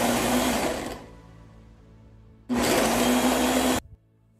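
Blender chopping peppers for efo riro vegetable soup, two loud motor bursts about a second and a second and a half long with a steady hum, separated by a brief pause of quiet rundown.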